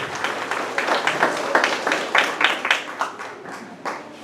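Congregation at a church service in Cajamarca clapping in rhythm, a steady run of bright claps from many hands close by, no talking over it.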